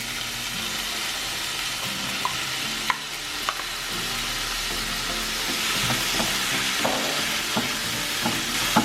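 Fresh chopped tomatoes hit a pan of fragrant ginger, garlic and curry powder for a Kenyan chicken wet fry, giving a constant moderate sizzle with scattered taps and stirring scrapes in a home kitchen.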